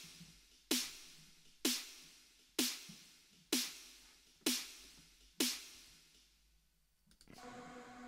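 Layered snare drum samples struck together in a steady pattern, six sharp, bright hits about one second apart, each with a quick decaying tail, followed by a brief tonal synth swell at the end.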